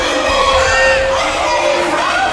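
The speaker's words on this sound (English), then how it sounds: "Crowd seems to be approving of it." A wrestling crowd at an indoor pro-wrestling show keeps up a dense, steady roar of cheering and shouting, with a few higher voices whooping above the constant din.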